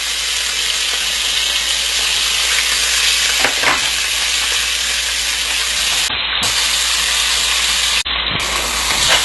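Butter, sliced coloured bell peppers and onion frying together in an oiled pan, a loud, close, continuous sizzle and hiss with occasional stirring scrapes and no talking.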